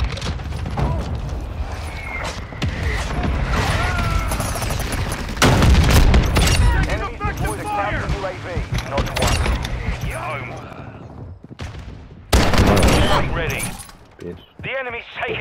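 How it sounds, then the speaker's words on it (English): Mortar strike explosions and gunfire in a military shooter video game: dense, continuous bursts of shots and blasts, with the heaviest booming impacts landing around the middle and again near the end. "Mortar strike is down."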